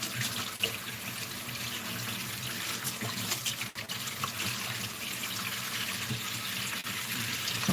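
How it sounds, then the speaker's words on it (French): Water runs and gurgles steadily out of an emptied kitchen sink, a close, continuous rushing trickle with no talk over it. "j'en profite pour bien vider l'évier"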